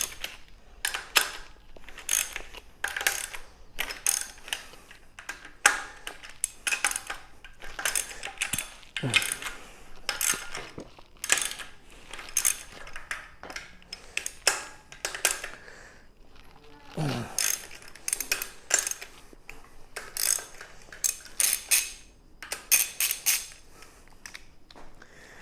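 A wrench loosens 13 millimeter nuts on a VW bus engine during a teardown, giving close, faint clicks and ratcheting bursts in irregular clusters with brief pauses and occasional metallic clinks.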